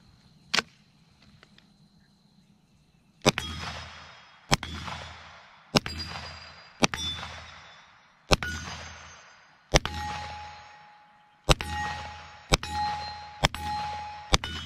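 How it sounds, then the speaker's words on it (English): Eleven sharp gunshots from a Keltec Sub 2000 in .40 S&W, fired at steel plates. Each shot rings with a metallic clang and has a short decaying tail, in an irregular rhythm with gaps of about one second. A single separate shot comes first. "So I'll run this last magazine, should be 15 rounds, and I'll shoot these plates again."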